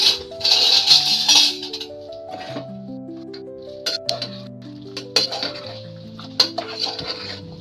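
A cooking pot of papaya curry is opened after cooking: a burst of metallic clinks and rattles from the lid and pot, then softer scattered clinks of utensils against metal, close by with no talk.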